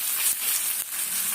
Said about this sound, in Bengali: পেঁয়াজটা এইভাবে ভাজা হয়ে গেছে, কিছুটা ভাজা হয়ে গেছে।